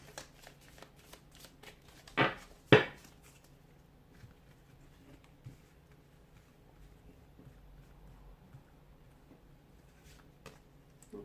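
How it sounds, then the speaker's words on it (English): Tarot cards being shuffled softly up close, two brief riffling bursts early on, then faint handling noises in a quiet room. "give the cards a soft shuffle"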